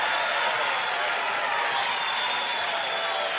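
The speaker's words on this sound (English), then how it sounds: "the Fairmont crowd doesn't like that" Fairmont basketball crowd reacting to a foul late in a close game, a broad, sustained roar of voices and some clapping filling the arena, steady and moderately loud.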